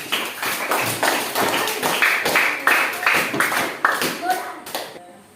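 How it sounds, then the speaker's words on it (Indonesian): A small group claps in a classroom lesson, a run of roughly a dozen bright, separate bursts of hand claps in a steady rhythm, close and fairly loud, fading out at the end. "Tepuk tangan."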